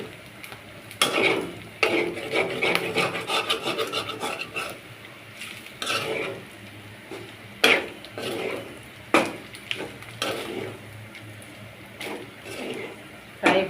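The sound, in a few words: stirring spiced meat in a pan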